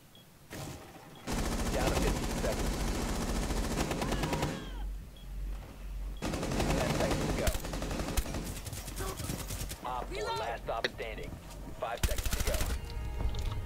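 Sustained automatic gunfire in Rainbow Six Siege, with long loud bursts separated by short lulls and voices speaking over the later stretch.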